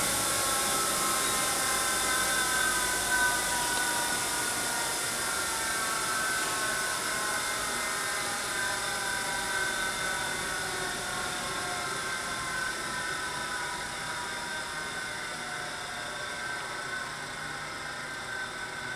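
A Mitsui Hi-Tec MSG-250H-2AH hydraulic surface grinder winds down, a steady whirring hum with faint ratcheting texture that slowly fades and drops in pitch over about nineteen seconds, heard alone with no talk.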